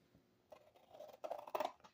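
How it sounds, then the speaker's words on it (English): Scissors cutting out a paper pattern for a homemade dry erase board, a few close, quick crisp snips that grow louder toward the end. "I'm gonna go ahead and cut that out with a pair of scissors real quick."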